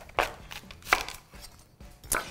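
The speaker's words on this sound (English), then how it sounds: "I'm gonna take my knife and I'm gonna cut it right down the middle" A knife slices a whole cauliflower down the middle for tacos, producing a few distinct crunchy cuts and thuds against a board, close and clear with no talking.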